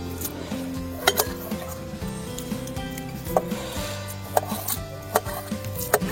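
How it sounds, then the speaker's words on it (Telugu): A knife chops tomatoes on a board for chicken curry at a night campsite in Lambasingi, giving irregular sharp knocks spaced a second or so apart. A steady background hum runs underneath. "ఈలోగా నేను టమాటా కట్ చేసేస్తాను"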